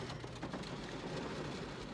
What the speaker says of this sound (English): I had to pause the video because the rain got so loud.